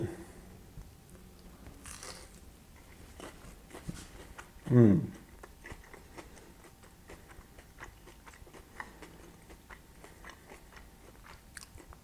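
A bite into a crisp sourdough-starter flatbread topped with fresh herbs gives one loud crunch about midway, then soft chewing under quiet room noise.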